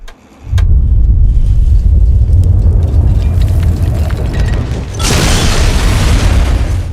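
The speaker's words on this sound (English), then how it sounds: "you choose to rig the bomb in Megaton to explode, and you watch the nuke" A nuclear bomb detonates in Megaton in Fallout 3, a huge booming blast that hits after a brief quiet and rolls on as a dense, loud roar, with a second surge of rumbling debris partway through.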